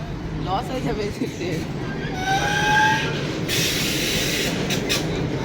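Interior of a moving air-conditioned local train on the Ranaghat–Bangaon–Sealdah line, with a steady rumble and rush of the carriage, a brief squeal midway and a bright hissing burst near the end as doors open, under people talking.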